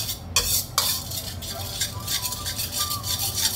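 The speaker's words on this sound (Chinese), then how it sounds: "就把咸蛋黄酱倒入锅中，用最小的火把咸蛋黄炒香，炒至半生" Salted egg yolk sauce is stir-fried in melted butter in a wok over the lowest heat, with a spatula scraping and stirring in steady close strokes and a soft sizzle underneath.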